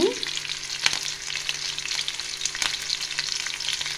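Curry leaves dropped into hot oil in a pan beside green chillies for a ridge gourd and moong dal curry, a steady crackling sizzle with sharp pops and a brief hiss at the start, close and fairly loud.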